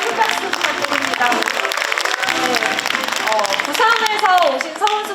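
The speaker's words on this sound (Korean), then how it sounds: "서울시 최고위원님께 다시 한번 큰 박수 부탁드립니다" A crowd at a political rally claps loudly and continuously, a dense wash of applause overlaid by a speaker's amplified voice and cheering tones from the audience.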